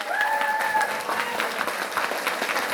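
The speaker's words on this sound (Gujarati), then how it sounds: "જોરદાર તાળીઓ." Audience at an annual function clapping in a strong, dense burst of applause, steady and crowd-wide throughout with faint voices mixed in.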